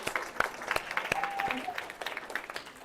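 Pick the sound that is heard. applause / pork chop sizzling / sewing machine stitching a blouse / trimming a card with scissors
applause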